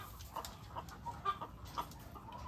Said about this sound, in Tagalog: yan po yung ating mga manok